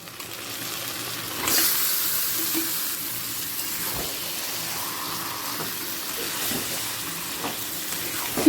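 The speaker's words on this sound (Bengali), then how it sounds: "টমেটোটা পেঁয়াজের সাথে তিরিশ সেকেন্ড ভাজা হয়ে গেছে এই সময় দিয়ে দেব রেস্টে রেখে দেওয়া চিকেন" Marinated chicken hits a pan of onion and tomato frying over medium-high gas, giving a sudden loud sizzle that settles into steady frying with scattered stirring clinks.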